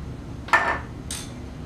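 A utensil twice clinks against a bowl while red colouring is mixed into white icing: two brief, bright knocks about half a second apart, with a quiet background.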